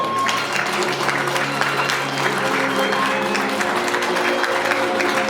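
Guests at a wedding ceremony at a garden venue in Daegu clap steadily together, a loud, dense burst of applause filling the room with a faint voice underneath.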